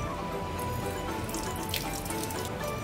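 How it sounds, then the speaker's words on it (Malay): Water running steadily from a tap over green chilies being rinsed with drinking water in a kitchen, a continuous close splashing stream with no voices. "因为它还有一些籽呢，我们用喝的开水把它稍微冲一下。"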